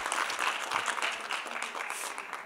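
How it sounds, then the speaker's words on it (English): Audience applause, a dense steady clatter of many hands clapping together, fairly close and sustained throughout. "Give yourselves a round of applause."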